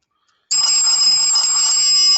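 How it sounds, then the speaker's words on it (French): A phone rings in a Montreal rental apartment, a bright electronic tone that starts abruptly after a moment of silence and holds steady and loud for nearly two seconds. "il y a le téléphone qui sonne"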